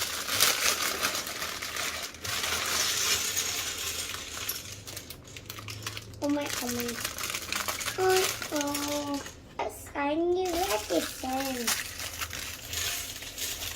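A plastic bag of Lego pieces for a Star Wars TIE Fighter set crinkles as it is handled and opened, giving a close, rustling texture, and a voice speaks over the later part.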